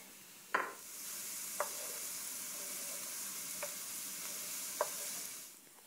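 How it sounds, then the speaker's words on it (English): Two cloves of minced garlic sautéing in a pan, a faint steady sizzle with a few sharp utensil taps spaced a second or so apart, quiet and close, with no voices. "So now we add 2 cloves of minced garlic. And this should only take 1 more minute."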